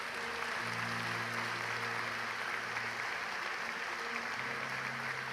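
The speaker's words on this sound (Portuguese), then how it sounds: "Você pode dar um aplauso ao Senhor nesta manhã?" A church congregation applauds during a Sunday morning service, steady sustained clapping filling the room with a faint murmur of voices underneath.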